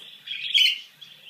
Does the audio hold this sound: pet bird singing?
yes